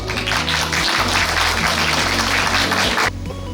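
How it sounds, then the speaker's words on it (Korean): Loud, dense applause from the audience at a Korean senior film festival closing awards ceremony, with clapping sustained for about three seconds before cutting off, leaving quieter room sound and a brief murmur. "모두 큰 박수 부탁드립니다."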